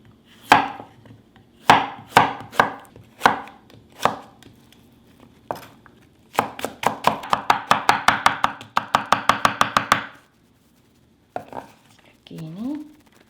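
Knife chopping zucchini into matchsticks on a cutting board, sharp separate knocks at first, then a fast even run of quick chops, a pause, and a few more cuts near the end.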